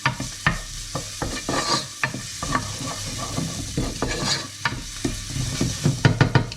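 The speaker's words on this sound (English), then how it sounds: "And just start by sweating the onion off, but you don't want to colour it." Onion sweating gently in a pan over medium heat for a fisherman's soup, a steady soft sizzle broken by repeated sharp scrapes and knocks of stirring, close and alone with no voices.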